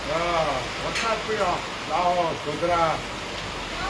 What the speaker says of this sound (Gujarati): હાલ અત્યારે પણ વરસાદ વરસી રહ્યો છે